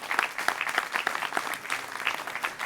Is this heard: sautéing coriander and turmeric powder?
no